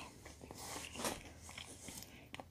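Peach Cheerios cereal being eaten, close crunchy chewing and biting with soft irregular crunches at a fairly quiet level.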